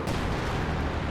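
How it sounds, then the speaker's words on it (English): Dense, loud artillery fire rumbles without pause through a short stretch of Company of Heroes 2 gameplay, heavy booming blasts merging into one continuous barrage. "And artillery there wiped by Stormtroopers."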